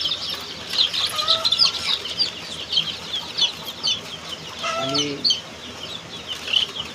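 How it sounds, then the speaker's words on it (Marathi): Seven-day-old desi chicks on a poultry farm cheep in a busy chorus of high, repeated peeps, with a lower clucking call partway through and a brief word spoken. "आत्मनिर्भर प्युअर गावरान कुक्कुटपालन आज पिल्ल्यांचा 7वा दिवस आहे."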